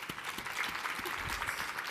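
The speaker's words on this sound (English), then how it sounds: "So can I get one more rousing round of applause for our experts?" Applause from a symposium audience for the panel experts, a brief, fairly faint and distant patter of clapping lasting under two seconds.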